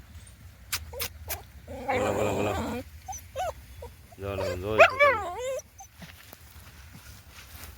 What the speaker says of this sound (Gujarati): જો કૂતરો, જો ડોગી